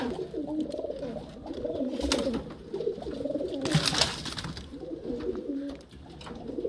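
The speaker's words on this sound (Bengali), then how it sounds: "আর চলুন আমরা দুটোকে এক জায়গায় ছেড়ে দেখাচ্ছি" A male and a female Giribaz pigeon from Murshidabad coo continuously at close range, with low rolling phrases repeating steadily and a couple of brief flutters or scuffs in between.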